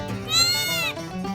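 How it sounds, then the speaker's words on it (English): A young goat kid bleats in a long, wavering cry that swells in the middle and then fades, fairly close and alone, on a farm during spring kidding. "So Megan's been eyeballing this goat all day"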